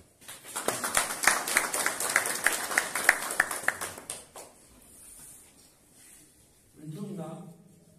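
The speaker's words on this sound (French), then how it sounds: "Et je voudrais que je l'applaudisse avec vous." Audience applause at a book-signing event in Toudja, a dense run of many hands clapping that swells and then fades out, with a voice speaking into a microphone afterward.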